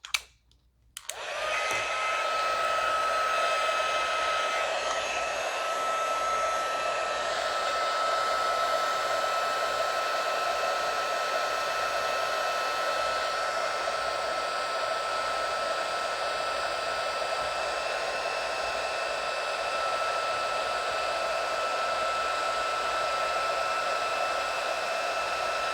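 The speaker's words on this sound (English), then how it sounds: "so let's heat emboss this. Grab my heat tool." A heat embossing tool blows hot air over a stamped card, a steady loud whooshing hiss that starts after a brief click and runs unbroken for about twenty-five seconds with no talking.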